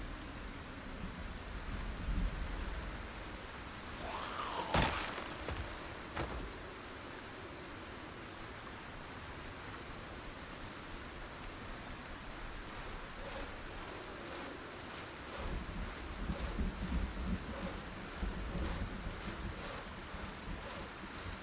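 Steady broadband rain hiss fills a tropical thunderstorm in Project Zomboid, with a sharp thunder crack near the start and a few low rumbles later, continuous and moderately loud with no voices.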